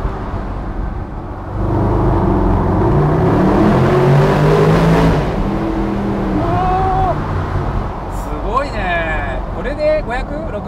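A Mercedes-Benz SLS AMG Roadster with 571 horsepower accelerates hard on a road, its engine note rising in a long, loud sweep and then easing off, while people in the car talk.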